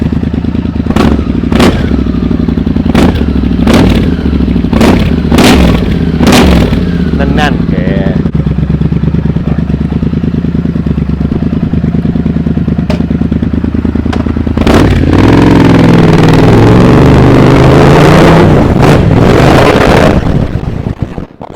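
A Triumph T100 motorcycle engine revs in several sharp bursts, then settles into a loud, steady idle with a deeper swell near the end.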